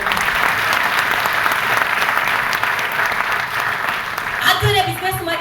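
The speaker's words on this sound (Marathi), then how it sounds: "एकदा त्या व्यक्तीसाठी जोरदार टाळ्या झाल्या" Sustained applause from an audience at a business success event in Aurangabad, Maharashtra, a dense and steady wash of many hands clapping close by for several seconds, with a few louder claps and a brief voice near the end.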